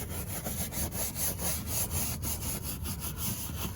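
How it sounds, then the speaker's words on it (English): A brush scrubs a car's leather seat, working down into the pores with rapid, continuous back-and-forth strokes, close up and fairly quiet, with no talking. "we're just going to get our brush down into the pores of the leather here"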